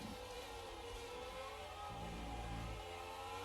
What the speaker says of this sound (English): Very distinctive exhaust note from the Mercedes Ilmor in the back of that car.